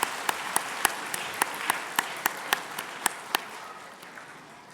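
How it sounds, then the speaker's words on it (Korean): Sparse, separate claps ring out in a steady rhythm from a church congregation at a Christmas thanksgiving service, greeting a children's choir special song; they stay moderately distant and thin out toward the end. "박수로 맞아주시면 감사하겠습니다."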